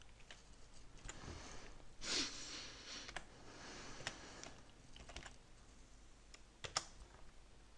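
Typing a username on a computer keyboard at a Linux Mint login, faint scattered key taps with a few louder clicks over quiet room hiss and some breathing.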